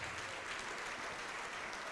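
Church congregation applauding together, a dense, steady wash of clapping that holds evenly at moderate loudness throughout, with no clear voices above it.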